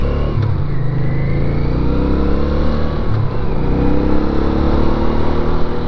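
A 1983 Honda Ascot motorcycle engine runs steadily while being ridden, its loud close drone rising and falling with throttle changes over wind and road noise.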